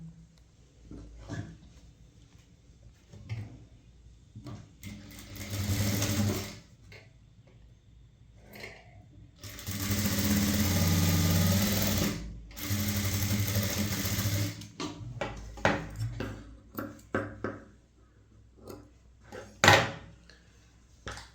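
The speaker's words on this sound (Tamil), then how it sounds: "ஆம்ஹோல் ரவுண்டில் வர டாட்டு அது இப்படி மடித்து தையல் போட்டுக்கலாம்" A sewing machine stitches a dart at a blouse armhole in bursts of fast whirring, with quiet pauses, handling of the fabric and small clicks between runs.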